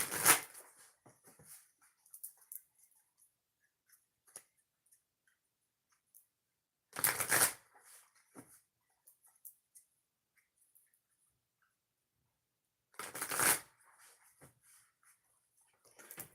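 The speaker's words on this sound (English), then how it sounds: "3 shuffles for the viewers." Oracle cards shuffled in three short bursts spaced several seconds apart, each a crisp riffling rush, with faint clicks and shuffling in the quiet gaps between.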